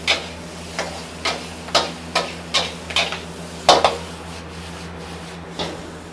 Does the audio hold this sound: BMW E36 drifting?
no